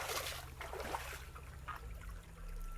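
Water trickling and splashing along a small canal through a forest, a steady close babble with a low rumble underneath and no voices.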